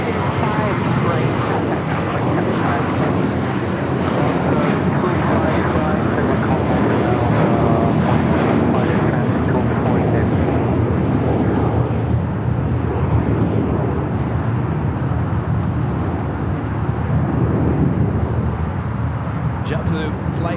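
A JetBlue Airbus A321 jet bound for JFK roars loudly and steadily at LAX, a broad continuous engine rumble filling the whole stretch, with a voice talking over it.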